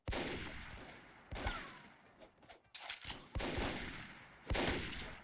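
Gunfire from the video game Microvolt Recharged: several sharp, loud bursts of shots repeat at intervals, separated by quieter stretches of game noise, with no talk over them.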